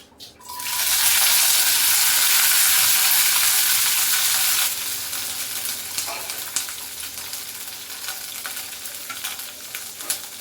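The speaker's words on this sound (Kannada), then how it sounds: "ಎಣ್ಣೆ ಸ್ವಲ್ಪ ಕಾದ್ಮೇಲೆ ಹಸಿಮೆಣಸಿನ್ಕಾಯಿ ಹಾಕ್ತಾ ಇದ್ದೀನಿ." Green chillies hit hot oil in a pot for palak chutney with a loud, close sizzle that surges for several seconds, then settles into a steadier, softer frying crackle.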